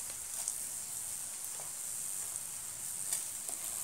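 Coriander seeds, cumin and fenugreek dry roasting and being stirred in a pan, giving a soft, steady sizzling hiss with faint scattered ticks and crackles, quiet and unbroken throughout.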